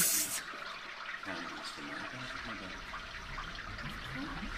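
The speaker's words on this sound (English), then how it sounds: "Water and air flowing through the rocks." Water and air rushing through rocks in a radio drama adaptation of The Lair of the White Worm, a continuous gurgling, splashing flow with a brief bright hiss at the start, steady throughout.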